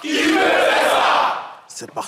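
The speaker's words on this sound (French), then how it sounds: "c'est le cri de guerre en même temps" A group roars a loud, sustained battle cry together for over a second, then breaks off into brief speech.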